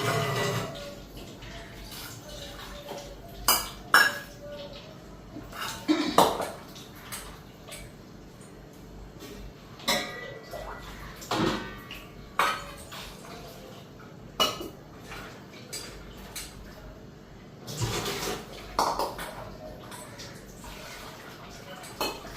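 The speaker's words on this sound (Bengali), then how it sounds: "আলু বেগুনটা ধুয়ে নেই।" Potatoes and eggplant being washed by hand in a kitchen, with water and repeated clattering knocks of pots and utensils at irregular intervals, fairly close.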